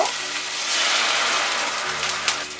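Hot water hisses into a pan of frying onion, flour, garlic paste and spices, a loud, steady close-up sizzle that holds for the whole stretch with a few small pops, and no voices.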